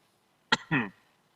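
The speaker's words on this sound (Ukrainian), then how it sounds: "Я одразу почав кашляти" Two sharp coughs in quick succession, close and fairly loud, the second a little longer and rougher, then quiet.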